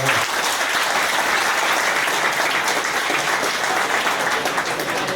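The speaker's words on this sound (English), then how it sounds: "a round of applause for that" An audience at a Manchester United interview event gives a loud, dense round of applause, continuous clapping that stays strong and even from start to finish.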